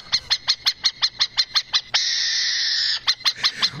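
Bird-call sound effect used as a jingle on a Brazilian radio sports show: a rapid series of about a dozen sharp, evenly spaced chirping calls, a sustained bright screech lasting about a second, then more quick chirps, loud and close.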